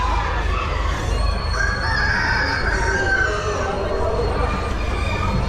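Fancy fowl chickens and roosters at the Balmoral Show crow and cluck in a busy indoor hall, with several overlapping calls over a constant low rumble of crowd noise.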